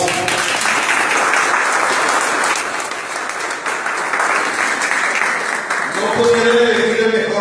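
Sustained applause from a congress audience on Guaraní language and culture, dense and steady for about six seconds before a voice resumes speaking over the tail.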